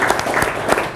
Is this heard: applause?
yes